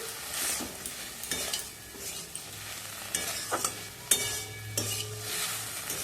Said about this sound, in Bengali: দেখুন আমাদের ডুমোগুলো ভালো করে ভেজে নিচ্ছি